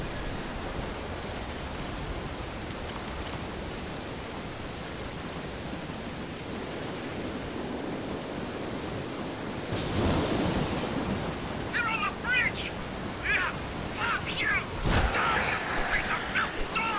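A thunderstorm at sea in the video game Dead Island Riptide, with steady loud rain, a deep thunder rumble near the middle and a second heavy burst toward the end, plus a few brief sharp sounds over the storm.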